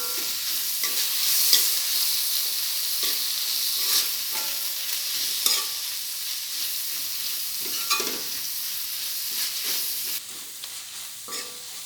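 Medium-sized chopped tomatoes sauté in a pan with a steady sizzle, broken by a regular series of spoon scrapes and stirs. The sound is close and continuous, with no talking.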